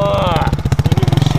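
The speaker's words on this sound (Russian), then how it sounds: "Вот работает у нас прямоточный выхлоп." A small Irbis Virago 110 Alpha moped engine with a straight-through exhaust revs and then settles into a loud, rapid, raspy putter with sharp exhaust pulses, heard up close.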